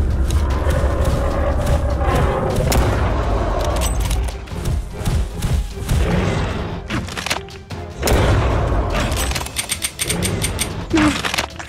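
Gunfire in the game Prehistoric Hunt comes as a series of sharp shots and mechanical clacks, with irregular bursts and reload noises over about twelve seconds.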